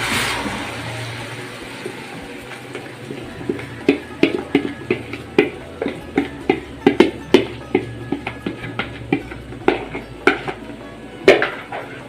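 Tomatoes go into a pan of browned onions, giving repeated close clatters of utensil against pan over a steady background, with no talking.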